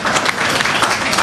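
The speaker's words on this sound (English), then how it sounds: "can y'all give her a really big round of applause for blessing this event, and Richard?" Dense applause from a crowd at a Los Angeles memorial tribute honoring Watts Prophet Richard Dedeaux, a steady, close wash of clapping filling the brief moment.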